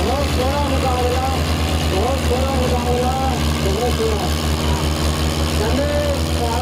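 A Mahindra 575 tractor engine runs with a steady deep throb, loud and near, while voices talk and sing over it throughout.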